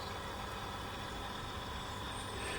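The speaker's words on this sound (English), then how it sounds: "You can hear the refrigeration unit ticking away to itself." A sound-equipped model Union Pacific reefer car gives off a steady, faint refrigeration-unit drone with a soft ticking texture, continuous and even, with no voices.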